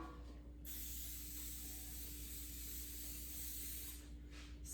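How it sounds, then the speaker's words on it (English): LuAnn coconut oil cooking spray misted onto baking pans for pumpkin bread, a continuous close hiss lasting several seconds, with a faint hum underneath. "this is Luana coconut oil spray from the Walmart"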